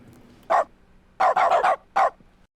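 A dog barks in The Stanley Parable video game, five sharp, close barks: one alone, then a quick run of three, then a final bark, each separated by quiet gaps.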